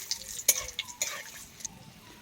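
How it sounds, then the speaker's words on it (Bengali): Bay leaf, dried red chili and whole garam masala frying in oil in a kadai, with light sizzling and a few sharp stirring scrapes of a spatula against the pan, heard close and fairly quiet. "সব কিছু আমার খুব ভালো করে ভাজা হয়ে গেছে,"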